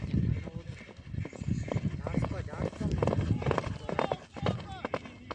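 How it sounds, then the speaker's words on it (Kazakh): Two horses in a baige horse race at a village jubilee gallop past with rapid, loud hoofbeats pounding close by, under excited commentary and crowd voices. "Міне 2 ат келе жатыр."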